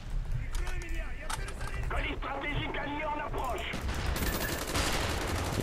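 Rapid gunfire bursts and mechanical weapon clatter from the video game Call of Duty Black Ops sound close and loud over a steady low game rumble, with someone talking in French alongside.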